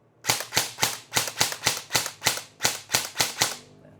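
Airsoft gun shooting around 380 to 400 FPS fired in semi-auto, a fast even run of about twelve sharp, loud, close snapping shots spaced roughly a quarter second apart, with no talking.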